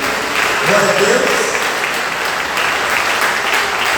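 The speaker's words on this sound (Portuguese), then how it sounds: "Podemos aplaudir Jesus pela vida dessa equipe?" A church congregation applauding during a mission day service, loud sustained clapping from a large crowd filling the space, with a voice faintly audible underneath.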